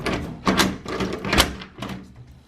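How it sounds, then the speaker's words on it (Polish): An exterior door with a WELOCK electronic lock is opened, giving a quick series of clunks, rattles and thumps from the handle and latch, close and fairly loud. "Zamek jest aktywny, mogę otworzyć drzwi."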